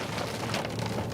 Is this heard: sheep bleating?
no